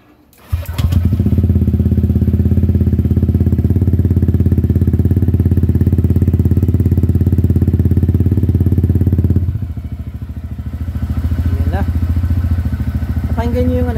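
Honda Click 125 scooter with a power pipe exhaust revs loud and steady close up for about nine seconds, then drops to a rougher idle with faint speech over it.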